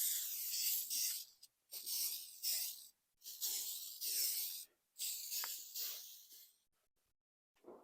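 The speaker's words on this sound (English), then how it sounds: "when you're using this oven cleaner spray" An aerosol can of oven cleaner is sprayed onto oven door glass in six or seven bursts, each a loud, close hiss lasting about a second, separated by short pauses, with no talking.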